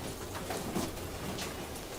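Rain patters steadily on a tent through the night, a soft continuous hiss with a few faint thumps beneath it and no voices.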